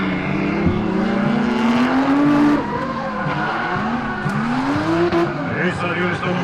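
Drift cars in a twin drift final run at the Croatian Drift Challenge 2019, with loud, high-revving engines and long, wailing tire squeals close by, under continuous commentary.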